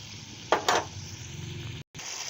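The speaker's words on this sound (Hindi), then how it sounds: "मीडियम आंच पर हम इसको आहिस्ता आहिस्ता जो है चम्मच हिलाते जाएंगे" A spoon stirs kaleji tikka masala in a pan over medium heat, giving two short scraping strokes over a steady low sizzle, with a brief gap near the end.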